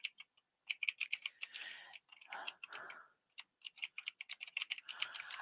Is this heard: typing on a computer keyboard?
yes